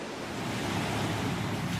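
Ocean waves wash onto a New Jersey shore in a steady, continuous roar of surf with no distinct breaks, full and fairly loud, no voices.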